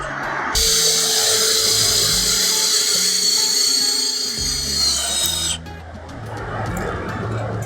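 A power screwdriver drives a screw into the support of a garden shed's flat-roof gutter, giving one long, steady, high whine lasting about five seconds before it stops, with a lower motor hum underneath.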